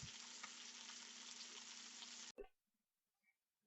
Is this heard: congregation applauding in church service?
no